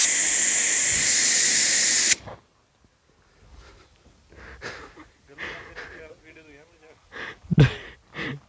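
Air or gas is pumped into a large hydrogen balloon as a loud, steady hiss lasting about two seconds before stopping abruptly; quieter talk follows.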